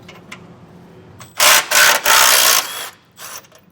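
Ratchet wrench loosening the 15mm bumper bolts on a 2021 Ford F-150 during base plate installation, heard as several loud bursts of fast clicking and rasping close by, separated by brief pauses.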